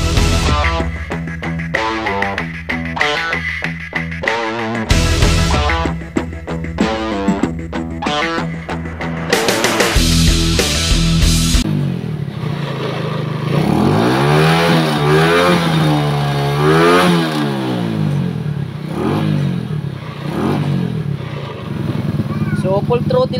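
A motorcycle engine that keeps stalling at night is revved at full throttle, giving a loud, harsh, distorted roar with repeated rising and falling pitch sweeps that never climb higher.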